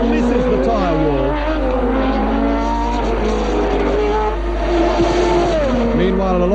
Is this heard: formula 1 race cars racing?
yes